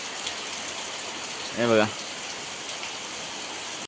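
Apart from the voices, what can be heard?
rain falling outside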